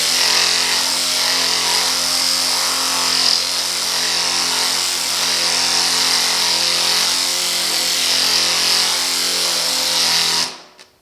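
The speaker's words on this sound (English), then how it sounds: "I went ahead and grabbed my Ingersoll Rand big air file. I got, I think that's 40 grit on there." An Ingersoll Rand air file with 40-grit paper sands body filler on a 1950 Chevy truck, giving a loud, steady pneumatic buzz with a rasping hiss that runs unbroken for about ten seconds, then stops abruptly.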